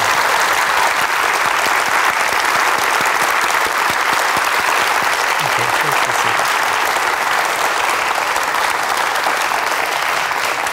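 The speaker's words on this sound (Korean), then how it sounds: "다시 한번 박수 보내드리겠습니다." An audience at a Korean television forum on reunification gives sustained applause, loud, dense clapping that holds steady for about eleven seconds without a break.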